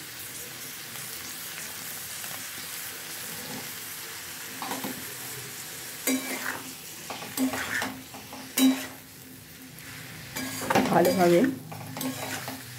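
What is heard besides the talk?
stirring and mixing spices in a frying pan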